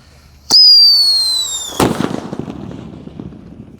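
A Pearl Thunder firework lit at night gives a shrill whistle for about a second, then one loud bang followed by fading crackles and sputters, with no voices.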